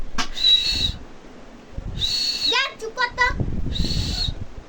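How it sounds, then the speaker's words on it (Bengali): A pet common myna calls up close with three bright, sustained whistles, broken by a quick run of chattering chirps between them. "এই যে আমাদের একটা শালিক পাখি পুষেছি"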